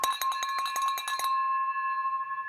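A small bell rings in a rapid run of bright metallic strikes for about a second, then its clear tone hangs and slowly fades alone.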